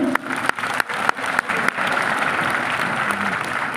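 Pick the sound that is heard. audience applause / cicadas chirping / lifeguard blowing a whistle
audience applause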